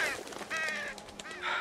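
Crows cawing in The Walking Dead Season 2 by Telltale, a few harsh calls in quick succession, fairly close and clear, with a faint voice briefly underneath.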